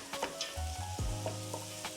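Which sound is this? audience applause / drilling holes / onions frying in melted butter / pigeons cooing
onions frying in melted butter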